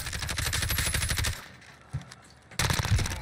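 CX-9 submachine gun fire in Call of Duty Warzone plays as quick, fairly quiet rapid bursts, fading to a lull and then resuming with a louder burst at the end.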